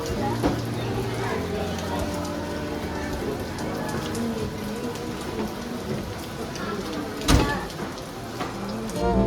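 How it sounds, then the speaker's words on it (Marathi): Steady rain pours down all around a ropeway with hanging cable-car buckets, a dense hiss across the whole stretch with a sharp knock near the end, while people talk over it. "पाऊस पडतो सगळीकडं."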